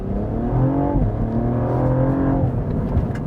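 A 2016 Cadillac ATS-V Coupe, rated at 464 horsepower, accelerates hard, its engine note loud and close and climbing steadily in pitch through a gear change before dropping back.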